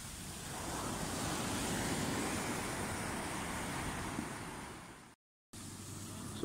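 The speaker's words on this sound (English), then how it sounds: "So we're just gonna chill here at Balangan Beach and get in." Ocean surf and wind at Balangan Beach in Bali: a continuous broad wash of breaking waves mixed with wind buffeting the microphone, steady and fairly loud, with a brief dropout near the end.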